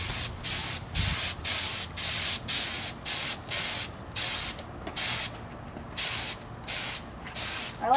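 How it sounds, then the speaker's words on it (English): A spray can sprays matte poly onto a lamp in a series of short hissing bursts, about a dozen evenly paced pulses with brief gaps, close and steady. "And then you can go ahead and spray."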